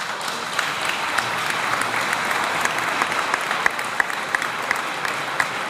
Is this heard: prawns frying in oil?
no